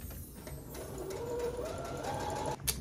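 A sewing machine stitches a cotton skort with a quiet, steady mechanical whir whose pitch gradually rises, ending in a brief sharp clatter, heard alone.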